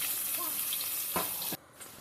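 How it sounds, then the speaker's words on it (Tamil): Onions sautéing in a pan of oil with cinnamon, cloves and bay leaf for a chicken gravy, a steady broadband sizzle with a brief stir or scrape before it drops away. "அது நல்லா கொதிச்சோடனே வெங்காயம் போட்டு நல்லா வதக்கணும்."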